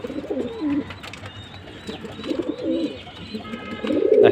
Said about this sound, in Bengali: এটা খুবই সম্প্রতি আমার কালেক্ট করা ব্ল্যাক বিবিক বুদাপেস্ট।